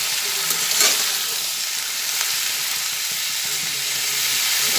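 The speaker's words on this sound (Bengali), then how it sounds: "এবার ফ্লেমটা বাড়িয়ে দিয়েছি করে এটা সব কিছুর সঙ্গে ভেজে নিচ্ছি" Beans frying with spices in a pan over a raised gas flame make a loud, continuous close sizzle, with occasional stirring scrapes rising briefly out of the hiss.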